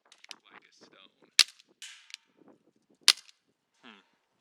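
Elite Force H8R CO2 airsoft revolver fires two sharp, loud cracks about a second and a half apart, each followed by a brief rattle, with small clicks and quiet handling noises between the shots.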